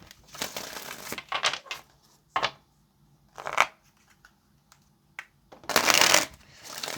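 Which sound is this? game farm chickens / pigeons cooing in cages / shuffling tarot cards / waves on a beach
shuffling tarot cards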